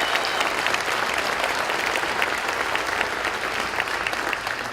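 Dense, steady audience applause at a diversity gala dinner, a continuous wash of many hands clapping at even loudness throughout, with no voices over it.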